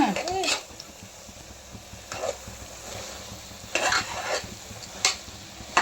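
Spices are stirred into a dish sizzling in a pan, with repeated scraping strokes of a spoon over a steady frying hiss and a voice speaking briefly at the start.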